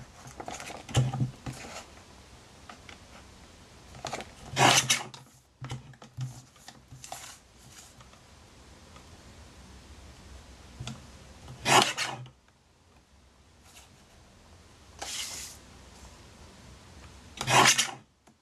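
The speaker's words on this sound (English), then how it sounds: "So I'm just going to cut an inch strip off this because I need 4 hearts." Scissors cutting an inch-wide strip from a sheet of paper for small craft hearts, heard as repeated close, dry rasping snips in short bursts separated by quieter handling pauses, with no talking.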